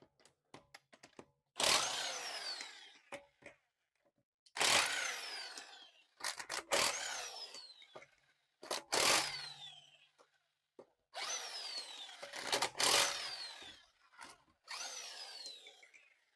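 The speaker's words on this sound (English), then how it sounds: "Now I just need to remove the wheels." Impact wrench or drill driver loosening the wheel lug nuts on a 2008 Honda Pilot raised on jack stands, with six loud, close bursts of whirring and rattling separated by short pauses and no talk.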